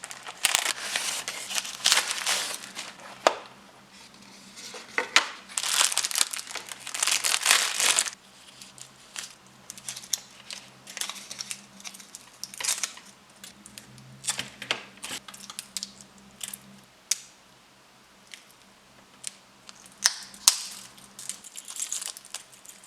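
Unboxing a LIGE quartz watch with backlit digital dial, bought from AliExpress: close, sharp crinkling and crushing of packaging in irregular bursts, louder early on, then scattered rustles, with no talking.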